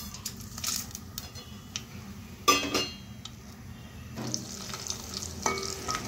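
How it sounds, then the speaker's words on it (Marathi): Whole cloves, cardamom, a cinnamon piece, black peppercorns and cumin seeds frying in oil over low flame for soya chunks pulav, a gentle crackling sizzle with a spoon stirring and one sharp clink of metal. "आता आपण हे तेलात घालून घेऊ"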